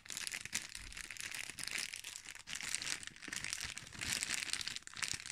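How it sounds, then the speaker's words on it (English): Thin plastic packaging crinkles and crackles up close as a fabric case is pulled out of it, a quiet continuous rustling with small sharp crackles and no talking. "Take it out of the plastic."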